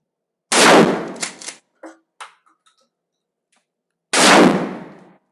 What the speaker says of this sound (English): We're going to shoot the Mossberg Shockwave.